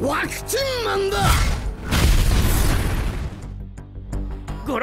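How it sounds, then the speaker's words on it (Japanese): A loud, booming explosion from the video game One Punch Man: Road to Hero erupts mid-clip as a broad, roaring burst that slowly fades, preceded by game voices and a rising swoosh. "ご覧ください、ものすごい爆発です。"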